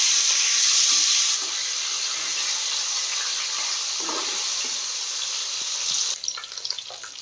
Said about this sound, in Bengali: তা গরম হয়ে গেছে, মাছটা ভাজা বসিয়ে দিচ্ছি।